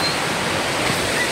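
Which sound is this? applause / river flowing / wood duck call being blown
river flowing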